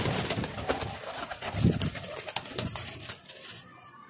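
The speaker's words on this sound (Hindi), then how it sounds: "बहुत अच्छे कबूतर हैं जी," Pigeons on a rooftop in Lahore coo in low, soft bursts amid a busy, noisy outdoor background, with the calls rising briefly near the middle before the sound fades at the end.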